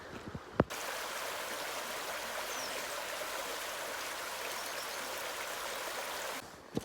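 River water rushes steadily at Medurečje, a Bosnian village set between at least two rivers. The close, even roar holds without a break for about six seconds, and no one speaks.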